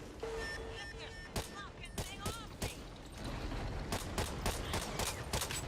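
Gunfire rattles through a round of the Back 4 Blood zombie shooter as sharp, close shots come first in scattered pairs and then in a rapid burst near the end, over a steady background of game sound.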